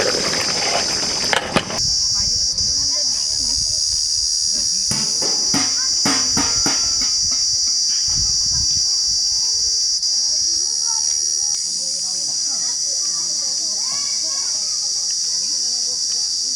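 Pointed gourd and prawns sizzle in a pan with a steady, bright hiss throughout, broken early by a few clanks and stirring sounds, while people talk intermittently over the frying.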